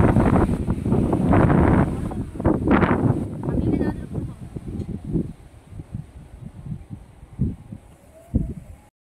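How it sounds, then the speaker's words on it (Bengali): Strong wind gusting past a microphone at the side of a highway, loud and buffeting for the first half, then easing into weaker intermittent gusts with a few brief bumps near the end. "হাওয়াটা কিরকম হচ্ছে একটু দেখাই।"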